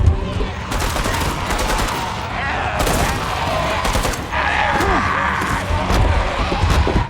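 Loud rapid bursts of gunfire rattle out in several volleys over a noisy background.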